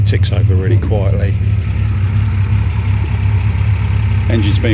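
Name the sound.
MG MGC GT rebuilt engine idling quietly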